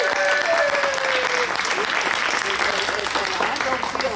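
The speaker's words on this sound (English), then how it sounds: "Everybody clap." An audience applauds steadily throughout at a 100th birthday celebration, dense continuous clapping close by, with a few voices and a whistle-like cheer mixed in early.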